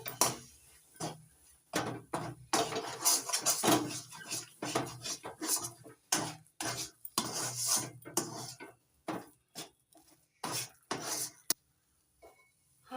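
A spoon stirs grated ginger into an amla mixture in a bowl, giving repeated clinking and scraping strokes in an irregular rhythm, close and fairly loud, with no talking.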